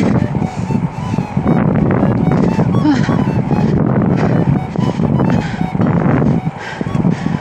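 Strong wind rushes and buffets the microphone continuously during a bicycle ride in Ghent, Belgium, a dense steady roar throughout.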